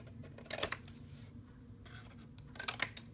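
Scissors snip through the corners of paper while an ephemera box is being covered, with a couple of quiet, close, crisp cutting bursts separated by pauses.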